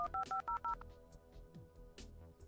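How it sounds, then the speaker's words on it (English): Telephone dialing tones in a video game: five quick, clear beeps in a row, followed by faint clicks and soft scraping noises, with no talking. "I heard a phone dial."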